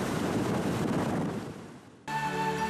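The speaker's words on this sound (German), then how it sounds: "auf der Beukeler Wiede war es recht windig geworden." Wind gusts across open water on the Beukeler Wiede, a broad rushing roar that swells, fades toward near quiet, then gives way abruptly to a steady tonal hum.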